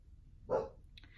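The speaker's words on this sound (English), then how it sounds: "The dog's outside and he wants me to open the door for him." A single short dog bark comes from outside a door, faint and muffled at a distance, followed by a small clatter.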